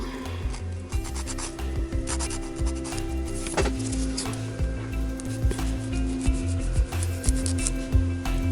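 An electric nail file with a 180-grit bit whirs with a steady motor hum while the bit rasps against a nail in repeated short strokes, close up.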